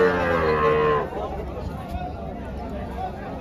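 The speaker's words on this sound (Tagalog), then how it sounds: "Napakalaking baka, Black Mamba." A very large cow nicknamed Black Mamba at the Lemery, Batangas livestock market lets out one loud, close, drawn-out moo, then gives way to a murmur of crowd chatter and market background noise.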